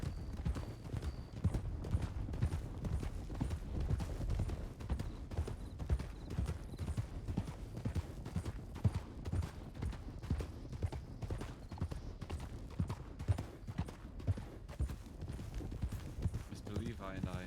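Several horses ridden in a roleplay game clip-clop in a steady, continuous rhythm of hoofbeats, with an occasional whinny and players talking throughout.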